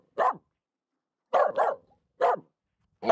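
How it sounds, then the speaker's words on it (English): A happy dog barks while out in the snow, giving several short, loud, close barks: a single bark, a quick double bark, another single, then one more starting at the end, with silent gaps between them. "I think it's happy barking."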